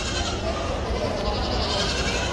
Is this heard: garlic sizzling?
no